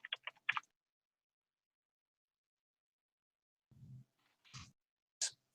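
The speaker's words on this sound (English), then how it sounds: "geez, my typing's bad." Typing on a computer keyboard while searching online for a planetary nebula: a quick burst of soft key clicks, a silent pause, then a few scattered louder taps, heard alone at low level.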